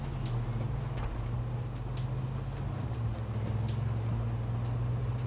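Car engine droning steadily in the video game H1Z1, a continuous low hum held at a constant level, with no talk over it.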